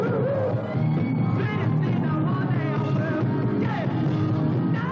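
A dense crowd of teenagers screams and yells at a free 1976 rock concert. The loud, steady roar fills the whole stretch with overlapping high-pitched cries.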